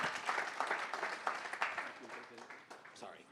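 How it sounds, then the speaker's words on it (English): An audience at a San Francisco tech demo night claps for a presenter, a moderate burst of applause that thins toward the end while a voice talks over it. "Round of applause for Crucible."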